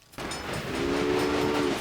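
A freight train in the railroad strategy game Railway Empire rumbles steadily along the line with a continuous roar, and a drawn-out horn blares over it for about a second.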